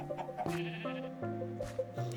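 Sheep bleating in Minecraft, a few short nasal baa calls close by, overlapping with soft ambient game music and no talking.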